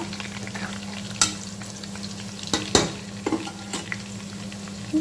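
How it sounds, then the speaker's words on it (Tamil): Green chilies sauté in a pan for beef biryani, a steady hiss of frying with a few sharp spoon clinks and stirring scrapes scattered through, close and moderately quiet, with no talking. "4 பச்சை மிளகாய் சேர்த்து நல்லா வதக்கிக்கலாம்"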